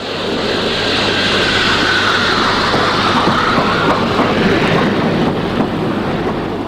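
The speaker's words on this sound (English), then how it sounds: "At Göhren we find 994801, one of 2 locos built in 1938 by Henschel for a private railway." Steam locomotive 994801, a 1938 Henschel engine of a private railway, at Göhren: a loud, steady rumble and hiss of the train running close by, with no voices.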